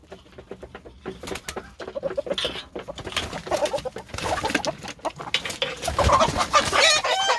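A golden rooster clucks and squawks in agitated bursts as it is caught, growing louder and more frantic, with flapping and scuffling close by.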